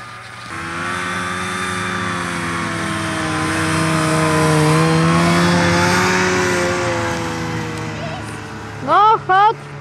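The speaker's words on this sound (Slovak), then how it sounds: "dávaj pozor, ide asi skúter" A small motor scooter drones up a hill road, its engine note swelling as it draws nearer and then fading, with a brief voice heard near the end.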